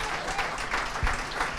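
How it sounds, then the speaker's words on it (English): Brief burst of audience applause for panelists at a Boston craft-beer talk event, a fairly close, busy wash of clapping that stays steady for its short length. "Can we give a round of applause for our panelists?"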